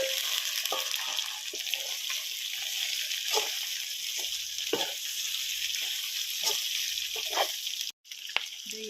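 Meat and potatoes fry in garlic in a pan over a fire, giving a steady loud sizzle with intermittent stirring scrapes and sloshes throughout.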